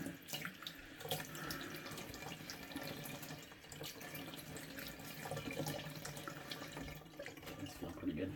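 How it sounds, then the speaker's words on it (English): A bathroom tap runs cold water steadily at a sink while splashes come as it is scooped onto a face during a shave routine, a continuous close rush with irregular wet slaps. "Okay, just put a little cold water in the face then."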